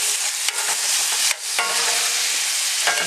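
Food frying in a pan, a steady broadband sizzle that runs almost without a break, with brief dips and a few stirring clatters, close and fairly loud, with no talking.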